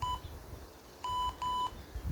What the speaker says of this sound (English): Just going to start the timer.